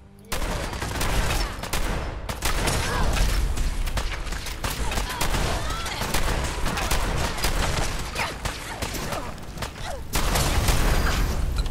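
Rapid, dense gunfire from the video game Fallout 4, loud and nearly continuous automatic bursts with booms and mechanical clatter, a brief lull near the end before the firing resumes.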